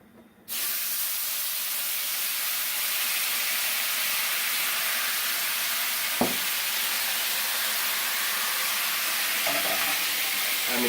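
White wine poured into a hot pan of butter left from searing scallops sets off a sudden, steady hiss of sizzling that holds evenly for about ten seconds, with a couple of faint knocks partway through.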